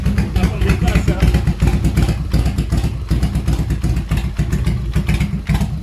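A loud Harley-Davidson motorcycle engine idles low with a lumpy, uneven rumble, its low pulsing beat continuous and close.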